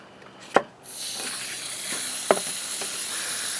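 A rock is polished by hand on wet 400 grit sandpaper with water, making a steady, close rasping hiss with a couple of sharp taps near the start and no talking.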